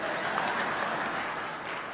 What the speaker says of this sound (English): Y'all clap it up for a young upstart.